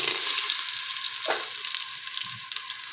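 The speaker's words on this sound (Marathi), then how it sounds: "सर्वात पहिल्यांदा हा बटाटा घालूयात" Diced potato pieces tipped into hot spiced oil for a mixed vegetable and pea biryani, giving a steady, bright, close sizzle that runs the whole time with a brief stirring scrape partway through.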